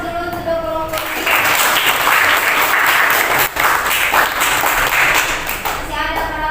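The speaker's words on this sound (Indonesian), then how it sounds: "Beri aplaus dulu untuk kelompok 5." A classroom of students breaks into loud, dense applause for a presenting group, the clapping sustained for several seconds and then fading, with a voice speaking briefly just before it starts and again as it dies down.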